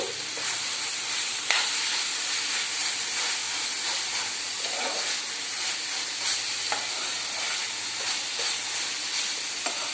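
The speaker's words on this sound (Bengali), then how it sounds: "চিকেনটা দেওয়ার পর ভালো করে আরেকবার আমি মিক্স করে নেব সব শুদ্ধ।" Minced chicken being stirred into ground spices in a hot pan for chicken keema rolls, giving a steady sizzle and scrape with occasional sharper clicks of the spoon, continuous and close throughout.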